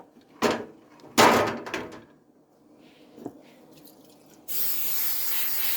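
Mazola cholesterol-free cooking oil sprays onto a waffle iron in a sustained hiss near the end, after a few knocks and clatters from kitchen handling.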